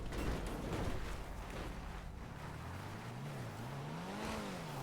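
An Ocelot Ardent car in GTA V drives off-road, its engine droning steadily and rising and falling in pitch as it revs, with rough rumbling and scraping over the terrain.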